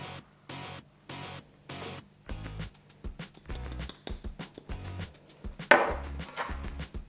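Almond milk and cornstarch are stirred in a bowl with a utensil, producing a series of close rhythmic knocking and scraping strokes with short gaps.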